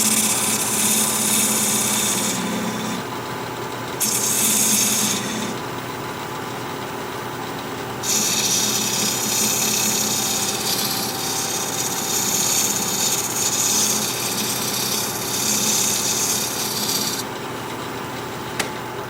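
A walnut bowl spinning on a wood lathe at about 1,000 RPM, cut with a 3/8 inch bowl gouge: a steady loud motor hum with rasping, scraping tool contact that comes and goes in long stretches.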